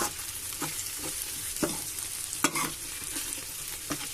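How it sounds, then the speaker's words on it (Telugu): Salted tomato and bitter gourd curry stirred in a pan, with a steady low sizzle and a few distinct scraping strokes of the spoon against the pan, close and moderately loud, no voices. "సాల్ట్ వేసి ఇలా మొత్తం కలుపుకోవాలి."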